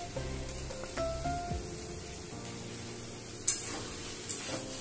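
Spice masala with red chilli powder is sautéed in a pan, giving a soft sizzle and occasional scrapes of a spatula, fairly quiet, with one sharper clack near the end.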